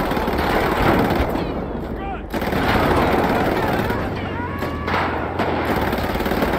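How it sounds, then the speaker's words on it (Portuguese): Machine gun fire in GTA V during a zombie mode firefight, dense rattling bursts layered into a loud, chaotic barrage with brief gaps, and a player talking throughout. "Metralhadora, metralhadora na mão."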